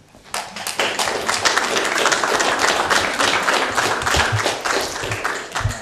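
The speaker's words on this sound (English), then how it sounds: "please give another warm round of applause to Al Jorgensen" A warm round of applause for poet Al Jorgensen at a poetry reading swells within the first second into dense, sustained clapping from a small audience, holding steady and close before easing slightly near the end, with no talking.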